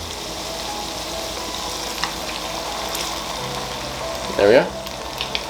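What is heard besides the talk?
sauce with wine cooking in a frying pan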